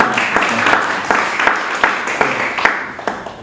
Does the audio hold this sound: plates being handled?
no